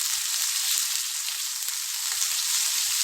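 Garlic sizzling loudly in oil in a pan, a dense continuous hiss and crackle heard up close, with no speech.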